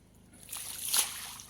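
Water splashes and sloshes as a bucket is poured out into a pond, swelling to a brief gush before trailing off.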